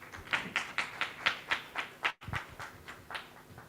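Audience at a live panel event clapping a welcome for a panelist, with evenly spaced sharp claps in a steady rhythm, a brief gap, then fainter claps trailing off.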